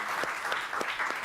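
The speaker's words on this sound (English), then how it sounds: "Can we give a big round of applause to them?" A short burst of crowd applause at a community build event, a faint, steady clatter of many hands with a few sharper claps standing out.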